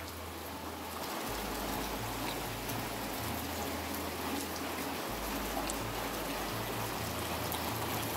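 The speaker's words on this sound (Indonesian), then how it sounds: "Ini tidak ada henti-hentinya dari tadi, menggias-gias terus hujan nih." Heavy, unbroken rain pours down in a transmigration village, a dense steady hiss with a low rumble of water running and dripping, loud and close with no voices.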